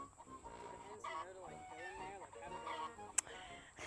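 Hens on a farm cluck and call in a shaded laying spot, a few nearby squawking vocalisations with a sharp brief knock near the end.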